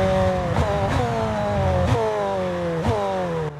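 A high-revving supercar engine in the video game F1 23 screams through repeated upshifts, pitch climbing and dropping several times in quick succession.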